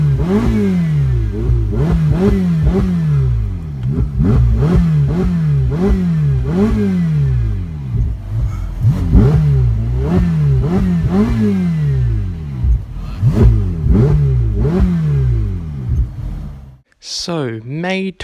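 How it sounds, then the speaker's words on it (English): A car engine blipped repeatedly toward about 6,000 rpm, loud and close, in a steady series of sharp rising-and-falling revs with brief pauses, ending with a short burst of voices. "Give it a bit of a rev. Come on, make some noise."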